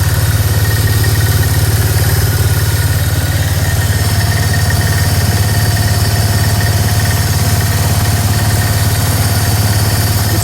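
A Polaris 325 Trail Boss quad on new tires idles steadily with a low, even engine hum and faint high whine, close and continuous with no talking.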